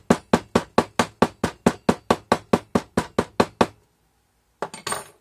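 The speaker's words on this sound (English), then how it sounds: "then we can start hammering it in." A quick run of about fifteen even hammer strikes, close and sharp, packing Petrobond sand into a casting flask, then a pause and a couple of scraping, clattering knocks.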